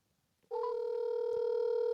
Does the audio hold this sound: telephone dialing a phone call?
yes